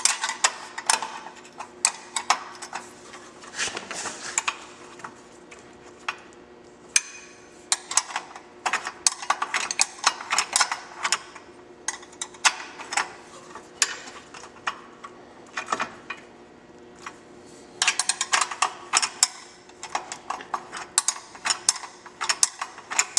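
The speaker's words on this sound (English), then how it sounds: "it feels like you turn forever to get them out, but take the bolts out" Long bolts being unscrewed from a rear master cylinder on an XC dirt bike, a quick ratcheting, clicking mechanical run with repeated bursts across the span and no talk.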